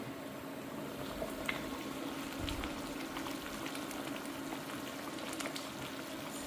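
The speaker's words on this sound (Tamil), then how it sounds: "குழம்பு கொதிச்சிட்ருக்கு நான் மூடி எடுக்கிறேன் பாருங்கள்" Kuzhambu curry bubbling at a steady boil in a pot with its lid lifted off, a continuous close simmering hiss dotted with small pops and bursts, with no talking.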